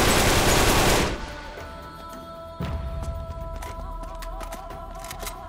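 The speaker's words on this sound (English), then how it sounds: "where is that dude shooting from?" Enemy gunfire in the Uncharted 3: Drake's Deception video game: a loud burst of rapid automatic fire cuts off after a second, followed by scattered sharp shots and clicks against a quieter background.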